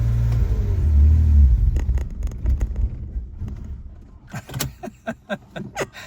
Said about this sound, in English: Really don't like a revved up neutral drop, but here we go.